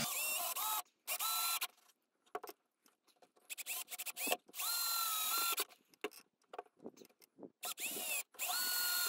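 A power drill drives 50mm screws into a wooden rabbit tractor frame in repeated bursts, each whirring run rising in pitch before stopping, with short quiet gaps between, close and loud.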